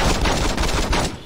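Rapid gunfire from Saints Row 2 rattles continuously, a dense close burst of automatic shots with no pause across the whole short stretch.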